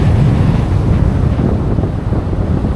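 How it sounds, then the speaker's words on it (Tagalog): Constant rushing wind buffets the microphone over a deep, churning roar of large sea waves while fishing, loud and close, with no pauses. "Laki ng alon."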